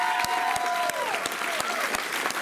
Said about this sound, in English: Let's give Tom a big round of applause.